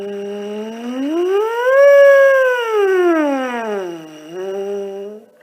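A steady rising and falling siren glide buzzed on a low brass mouthpiece as a warm-up exercise, sweeping up and back down smoothly and continuously without gaps, loud and close, with no talking.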